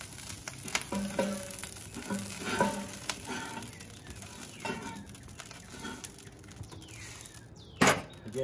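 Chicken fajitas sizzle in a wok over a Big Green Egg grill, giving a steady, moderately faint frying hiss with occasional louder crackles and a sharp pop near the end.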